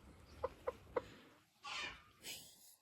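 A crested hen gives three short soft clucks in quick succession, followed by two louder rustling bursts, close but faint with no speech.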